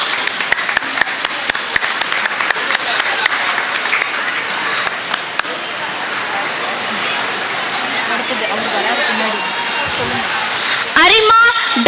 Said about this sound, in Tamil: கரகோஷம் எழுப்பி வரவேற்கலாம்.